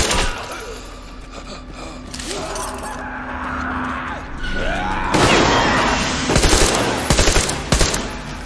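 Gunfire in the shooter game Metro Exodus during an ambush, bursts of automatic fire and sharp shots growing louder and denser toward the end, mixed with gasps, shattering and other game sounds.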